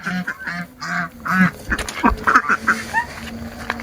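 A group of farm ducks quacks close by in a busy run of repeated, overlapping calls, some short and some drawn out.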